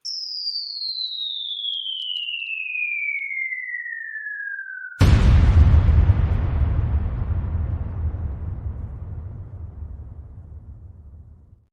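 An explosion sound effect: a long descending whistle tone glides down for several seconds, then a loud boom bursts and rumbles, fading gradually with deep low-end decay.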